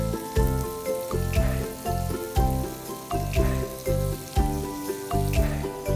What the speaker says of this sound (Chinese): 好，我们个别把它煎香哦，现在就好香哦。